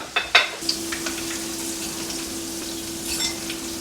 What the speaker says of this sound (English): We've got everything simmering away nicely.